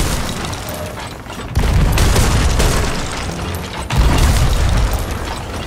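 Ship cannons fire in the Sea of Thieves game: two loud, deep booms, each followed by sustained heavy rumble, set against a constant roar of sea and wind.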